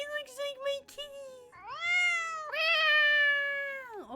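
Cat Jetmir in the video game Skyrim gives a series of long, loud, drawn-out meows, with short chirpy calls at first, then two sustained rising-and-falling wails, close and clear.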